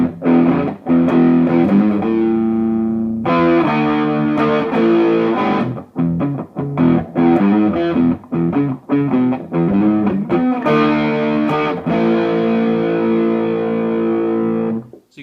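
Electric guitar driven through a Zendrive overdrive pedal, playing loud, medium-gain chords and riffs with sustained, harmonically rich tones and brief gaps between phrases, alone with no talking.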